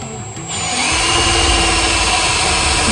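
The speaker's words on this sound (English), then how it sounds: "I'm drilling the metal frame so that we can put our fasteners through the frame" A power drill spins up and runs steadily, loud and close, with a grinding whine as it bores through a metal table frame.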